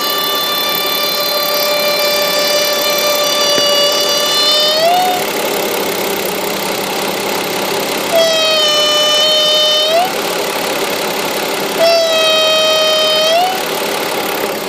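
Whine from a 2005 Mazda MPV 6-cylinder engine with a hose fault, a loud steady tonal whine over the running engine that rises in pitch and cuts off, repeating three times as the hose is kinked.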